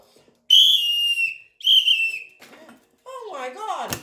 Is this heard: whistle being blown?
yes